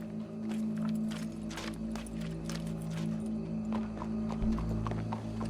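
Horse hooves clip-clopping in Red Dead Redemption 2, a steady walking rhythm of close, distinct hoof strikes over a low droning game background, with a brief whinny-like sound.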